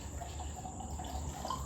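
Reishi mushroom tincture poured through a tiny funnel into a small bottle, a faint, steady liquid trickle close by against a hiss of background noise, with no talk.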